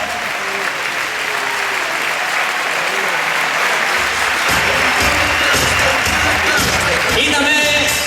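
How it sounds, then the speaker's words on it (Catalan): Sustained, loud applause from an audience at a Lleida tournament as volunteers gather in the middle of the court, dense clapping filling the whole stretch with a voice speaking over it. "I un fort aplaudiment per a ells."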